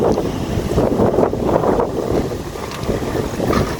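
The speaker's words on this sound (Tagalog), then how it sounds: "Gumagalaw talaga yung bangka sa malakas ang alon." Small boat rocking on strong waves at dusk, with a continuous rush of wind and water, gusting buffets against the microphone and splashing, heard close with no voices.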